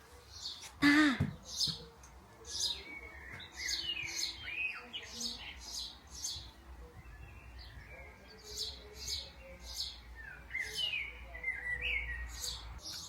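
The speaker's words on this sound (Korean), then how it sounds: "새소리가 너무 듣기 좋아요." Birds chirp and warble repeatedly outside a hotel terrace in Eastern Europe, bright short calls in a steady stream at moderate distance, with a brief louder squawk early on.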